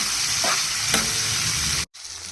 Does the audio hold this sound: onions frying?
yes